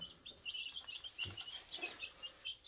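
Araucana chicks peep continuously in a makeshift brooder, a steady stream of faint, high, thin chirps repeating in quick succession with a few soft rustles beneath.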